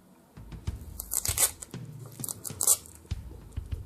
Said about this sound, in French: il y a en plus du scotch